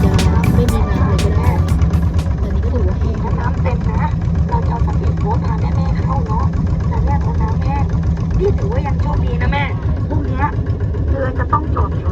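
A loud long-tail boat motor chugs steadily up close with a rough, rhythmic putter near the Surin Islands, Thailand, and voices are mixed in.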